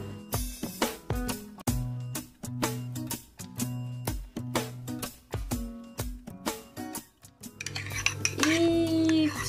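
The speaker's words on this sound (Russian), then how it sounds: "Все это дело перемешиваем." Grated carrot mixed with mayonnaise, garlic and salt in a bowl, a spoon repeatedly scraping and clinking against the dish in a steady rhythm of close, crisp strokes, with no talk.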